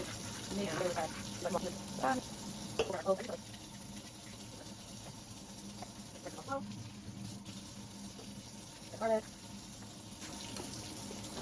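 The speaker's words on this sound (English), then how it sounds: "let's just go ahead and rinse everything off" Parsley and other ingredients are rinsed under a running kitchen tap, a quiet water hiss broken by splashes and handling noises in the sink.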